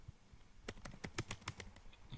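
Quick burst of about ten keystrokes on a computer keyboard, close and crisp clicks in a fast rhythm after a brief quiet start.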